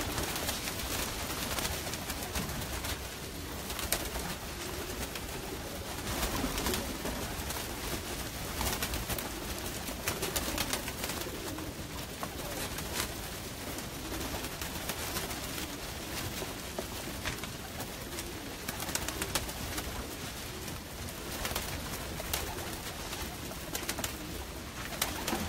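Pigeons coo and call steadily at close range, a dense continuous flock murmur running the whole time with no talk over it.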